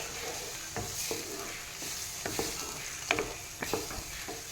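Cluster bean sambar being stirred in a pot: a spoon scrapes and clinks against the metal in irregular strokes over a low bubbling simmer, close and moderately loud, with no talking.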